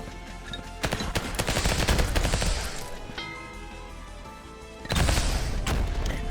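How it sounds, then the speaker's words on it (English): Auto-targeting missiles firing in the video game Vampire Hunters, loud rapid volleys of launches and impacts in two dense bursts, the first around one to three seconds and a second near five seconds, alone without talk. "Missiles. That's cool because it auto targets."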